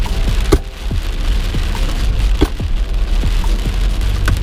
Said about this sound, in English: All this rain fucking sucks.